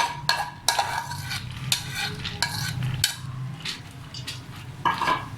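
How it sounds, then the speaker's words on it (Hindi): Lentils for beef shami kabab tumble and rattle into a metal pot, with scraping, stirring and clinking of utensils against the pan in irregular close bursts. "पहले हम ये दाल डाल लेते हैं इसमें।"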